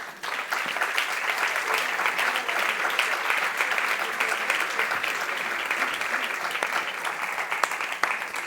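An audience at a lecture on Pride and Prejudice claps continuously, a dense, steady roar of many hands lasting the whole stretch with no pause.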